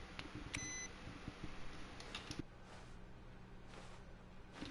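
A brief electronic chime from computers in the video game DMZ sounds early on, a quiet tonal beep over a faint, steady game background.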